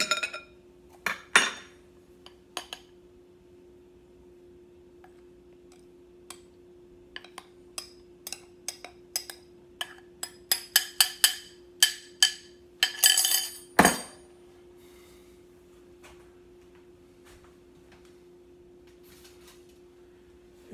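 Utensils clink and scrape against a bowl while date-nut loaf batter ingredients are stirred together, scattered sharp clicks and taps that cluster into a quicker run midway, then fall quiet in an otherwise still kitchen.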